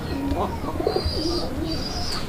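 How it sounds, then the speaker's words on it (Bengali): Pigeons kept for sale, brought outdoors into daylight, give several soft, rolling coos close by, overlapping with brief chirps and a faint low murmur in the background. "কবুতরগুলো প্রত্যেকটাই ডাকবে"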